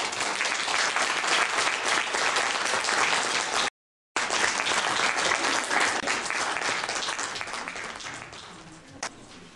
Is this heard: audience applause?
yes